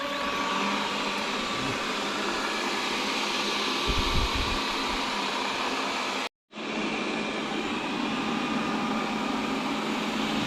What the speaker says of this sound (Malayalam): ഇതാണ് നമ്മുടെ വാക്യൂം ക്ലീനർ. ചെറിയ ശബ്ദമൊക്കെ ഉണ്ട് കേട്ടോ.